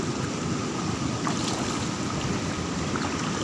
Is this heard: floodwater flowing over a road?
yes